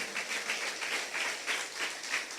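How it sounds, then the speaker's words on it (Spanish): A church congregation claps together during a Spanish-language service, a steady wash of many hands with loose rhythmic pulses, moderately distant and fairly quiet, with no talking. "dele palmas al Señor"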